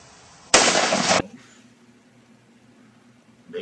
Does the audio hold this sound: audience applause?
no